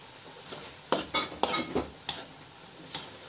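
Mexican food with Maggi sauce stirred in a pan, a handful of distinct spoon scrapes and knocks against the pan over a low steady sizzle, close and moderately loud, without talk.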